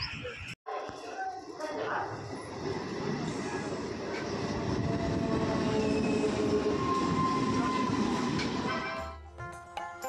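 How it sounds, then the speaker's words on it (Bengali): A passenger train pulling into Gobordanga station in rural West Bengal: a loud rolling rumble with rattling wagons, squealing wheels and clickety-clack, rising then easing as it slows, with voices in the background. "গোবরডাঙ্গা এখন ট্রেন ঢুকছে"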